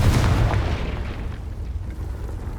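A Confringo blasting spell explodes in Hogwarts Legacy, a loud, deep boom with a rumbling tail that fills the whole moment and fades slowly, with no voices over it.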